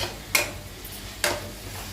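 Biryani masala with chilli, mint and coriander is mixed in an electric rice cooker. Two short, soft scraping strokes about a second apart sit over faint background hum.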